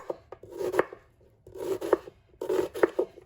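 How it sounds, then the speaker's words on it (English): A knife slices vegetables into julienne strips on a cutting board for Mexican-style steak, in three quick bursts of rapid, close chopping separated by short pauses. "You're gonna go ahead and cut it julienne style."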